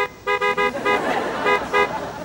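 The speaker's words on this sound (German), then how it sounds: "Du sollst hupen." Car horn honks in a short series, four quick toots and then two more after a pause, loud and close with some road noise between them.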